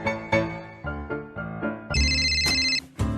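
A telephone ringtone plays a run of short, evenly spaced musical pulses, then breaks into a brighter, louder sustained melody before cutting off briefly and starting again. It is close and clear, with no talking over it.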